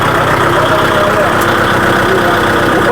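A four-cylinder tractor engine idles steadily, a close, even low throb with a continuous mechanical hum and no change in pace.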